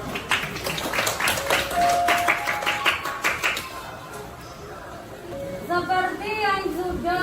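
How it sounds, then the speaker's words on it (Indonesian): Scattered claps from a classroom group, recognising group 4 at the end of a lesson, patter through the first few seconds, then fade as voices carry on over a room murmur. "Tepuk tangan untuk kelompok 4."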